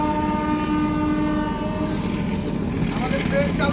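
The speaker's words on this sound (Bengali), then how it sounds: "আমাদের ট্রেন চালু হয়ে গেছে" A train getting under way on the Kamalapur to Narayanganj line in Bangladesh: a loud, steady rumble with sustained horn-like tones running throughout, with a voice faintly present in the mix.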